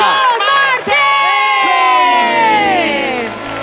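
Studio audience at an Indonesian TV talent show, Hidden Talent, cheering and whooping loudly as the panelists are introduced, a dense wall of shouting voices with rising and falling yells throughout.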